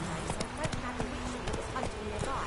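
Horse hooves clip-clop in a steady rhythm in The Witcher 3 video game. A voice speaks over the hoofbeats.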